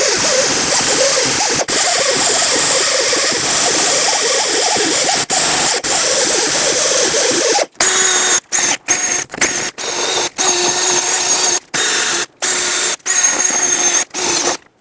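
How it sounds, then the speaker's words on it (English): A wire wheel spun by a drill scrubs rust off a brake surface during a front brake job on a 2008-2012 Honda Accord, a harsh steady whirring grind that breaks into repeated short bursts toward the end. "take a fine grit sanding disc or a wire brush or even a wire wheel on a drill and get this surface nice and clean"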